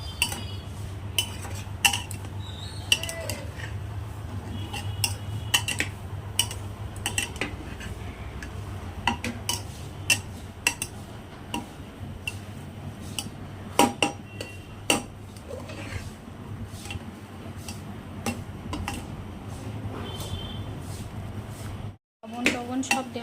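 Soya bean mixture being stirred in a pan for soya kababs, with repeated scraping clinks and taps of a utensil against the metal over a low steady hum, close and continuous throughout.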